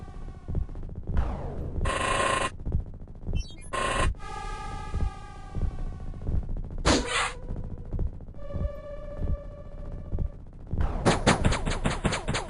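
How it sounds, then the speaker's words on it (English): Gunfire from the XCOM tactical video game arrives in several sharp, loud bursts separated by short gaps, with a heavy final volley near the end. "nothing to see here, just shooting more unarmed things"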